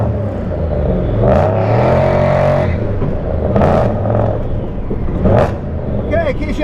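A 1965 Ford Mustang's engine rumbles and revs while driving, heard from inside the car with swelling pulls and whooshing surges, loud and close, under people talking.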